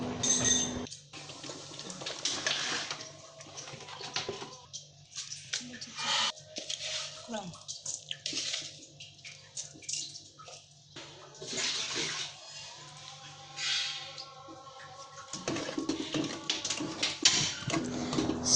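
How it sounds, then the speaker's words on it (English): Water pours and splashes into a bowl of gado-gado peanut sauce mixture in a steady stream, with a voice talking over it and a few clinks in between. "Add some water again because I feel it's still condensed."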